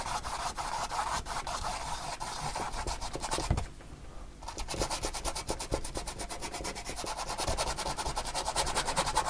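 Paintbrush scrubbing acrylic paint onto canvas in a beginner sunrise tree painting, a soft continuous close scratchy rubbing with rapid repeated bristle strokes and a brief pause midway.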